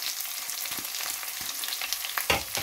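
White onion frying in a hot pan for a spring onion flower stir fry: a steady close sizzle with a few sharper crackles and stirring scrapes, louder near the end, no voices.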